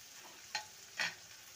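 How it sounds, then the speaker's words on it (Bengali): Onions lightly frying in a pan, with a faint steady background hiss broken by two short, louder scraping bursts, like a spatula stirring, heard alone without any talk. "পেঁয়াজটাকে হালকা ভেজে নিয়েছি, এর থেকে বেশি ভাজবো না।"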